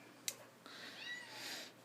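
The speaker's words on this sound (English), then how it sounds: "So if they start meowing, I might have to stop again." A cat gives a short, quiet meow after a brief click, faint and close in an otherwise still room.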